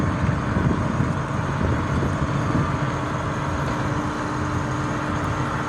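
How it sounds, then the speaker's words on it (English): A road construction machine's engine idles while ready to spread red earth, a steady low rumble with broadband noise and some wind, unbroken and fairly close for the whole stretch. "The engine is on. We can hear it. It's ready to spread the red earth."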